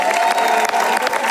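A crowd claps and cheers loudly at a political rally in Aniane, France, dense applause with a few whoops rising over it, sustained for the whole moment.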